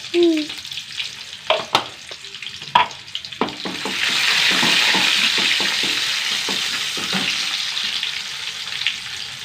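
Cumin seeds dropped into hot oil in a pan: a few sharp clicks and clatters, then a loud, close sizzle bursts up and holds steady, slowly easing off.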